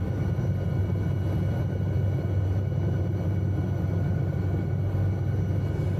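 An SA315B Lama helicopter in Microsoft Flight Simulator 2020 makes a steady, low engine and rotor rumble with a continuous droning hum at an even level.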